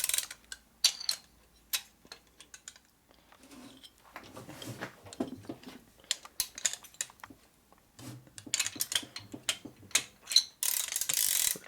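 Ratchet wrench tightening a bolt on a 1961 Harley FL 74ci panhead engine during a rebuild, with quick bursts of sharp metallic clicking separated by pauses and some quieter handling noise in between.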